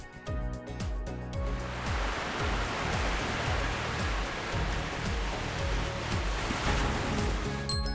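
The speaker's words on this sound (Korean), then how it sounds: "파도 소리" Ocean waves roll and wash in a continuous surging roar, rising and falling gently over soft low tones beneath.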